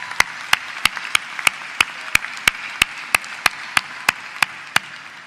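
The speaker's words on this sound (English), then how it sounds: "I think that deserves a round of applause." Commencement audience at a spring graduation ceremony applauding, heard here as a distinct, regular series of sharp single claps standing out over a softer background crowd murmur, steady for several seconds.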